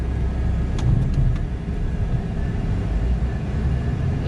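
A 2008 Dodge Ram Mega Cab diesel truck in 4 low gives off a loud, continuous low rumble close by, with a few faint high clicks early on.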